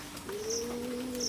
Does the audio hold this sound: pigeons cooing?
yes